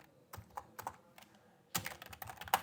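Computer keyboard keys clatter in short irregular bursts while code is typed, a few scattered taps followed by a denser run of rapid keystrokes, close and fairly quiet, with no voices.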